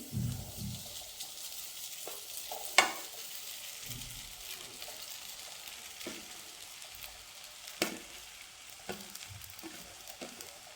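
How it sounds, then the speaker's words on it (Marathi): Soaked puffed rice being stirred in a pan, a soft continuous sizzle with scattered scraping and clinking of the spoon against the pan, close and fairly quiet. "त्याला मिक्स करून घ्यायचं व्यवस्थित"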